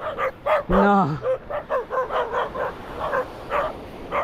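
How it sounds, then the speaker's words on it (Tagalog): Dogs bark and yip repeatedly in a fast, continuous string, close by and loud, with one longer whining howl near the start. "Pinapaalis na ako ng mga aso mga katoks."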